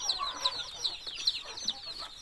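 Several Thai ornamental chickens cluck close by in short, repeated bursts, with soft background rustling between the calls.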